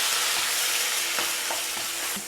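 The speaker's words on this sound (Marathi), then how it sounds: "तो पूर्ण मसाला टाकून घेतला आहे. हा खूप छान प्रकारे आपण फ्राय करून घेणार आहोत." Full masala frying in oil in a home kitchen pan, a steady broadband sizzle with a few soft stirring scrapes and knocks, close and continuous with no talking.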